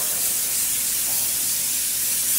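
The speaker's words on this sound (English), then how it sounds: "I will use an airbrush to just spray" An airbrush blows a steady, loud hiss of air over an easy-tack adhesive sheet to dry it, continuous throughout with no pauses or voices.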